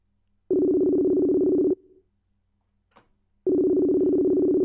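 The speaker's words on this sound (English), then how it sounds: "we're ringing the ERL chat now" Telephone ringing tone during a call, two long steady buzzing rings about a second each separated by a quiet gap, with a brief faint click between them.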